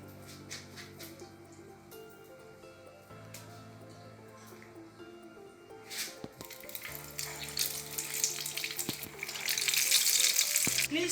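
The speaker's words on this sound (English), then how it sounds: "Then you take into the fire. And it goes into the hot oil." Egg-coated potarita goes into hot oil, and a sizzle builds from quiet kitchen sounds into a loud, dense frying hiss near the end, with faint humming underneath.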